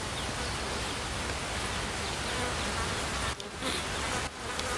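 Bees buzzing in the video game Ancestors, a dense continuous insect drone at moderate level, alone with two brief dips in the swarm sound.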